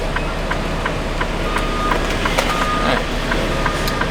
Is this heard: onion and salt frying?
no